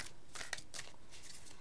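Tarot cards being shuffled by hand, a few quick papery riffles and flicks in short bursts, fairly quiet and close with no voices.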